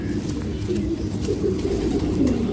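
Pigeons coo softly and repeatedly in a low murmur, with a steady background hum and no clear gaps.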